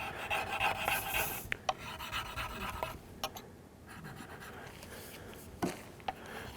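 A blade is sharpened freehand on a stone to raise a burr, producing quiet, close rasping strokes in an uneven rhythm with a few soft clicks and scrapes in between.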